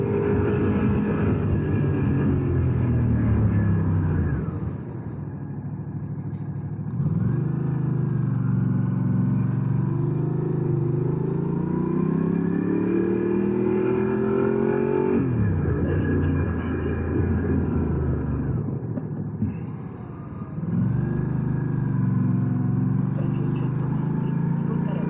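A Ducati Pikes Peak motorcycle drones steadily and loudly on a sunny November ride up snowy Monte Bondone, its pitch rising and falling as it shifts through gears, with brief dips in power.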